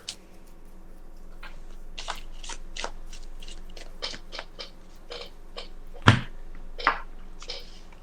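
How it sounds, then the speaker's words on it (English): A deck of Magic: The Gathering cards being shuffled by hand up close, with a string of quick papery riffles and clicks and a couple of sharper snaps near the end, with no talk over it. "I'm just gonna shuffle again"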